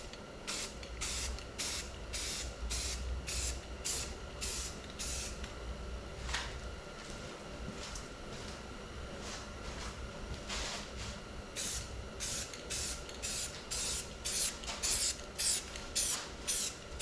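Rhythmic bursts of aerosol spray paint coating aftermarket truck wheels white, a steady train of short hissing passes repeated close up with brief pauses between.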